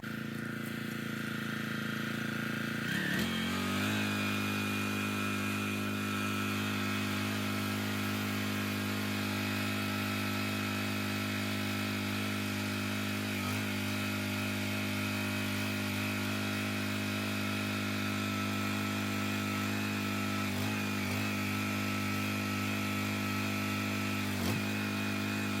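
The small engine of a brand-new log splitter idles steadily and close for the whole stretch, a loud, even drone with a few faint knocks as the hydraulics cycle to warm up.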